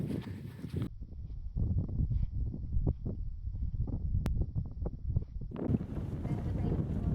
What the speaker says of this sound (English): Extremely windy up here, but excellent views of East Devon.